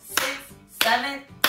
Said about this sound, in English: Let's clap our hands 9 times.